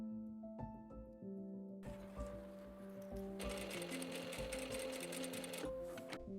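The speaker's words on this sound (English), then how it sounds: "I'm going to make 2 rows of stay stitches along the armholes." A sewing machine stitches rows of stay stitches along the armholes of a dress, with a steady close mechanical whir and rapid needle chatter, no talking.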